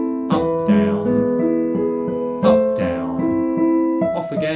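Piano playing the left-hand part of Beethoven's Für Elise with the sustain pedal, sounding broken chord patterns in low and middle registers that ring and overlap, several phrases at moderate pace, loud and close.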